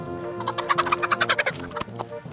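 Chickens in a backyard coop converted from a shed, giving a run of close, rapid clucks and squawks that rise into a busy burst, then tail off into scattered calls.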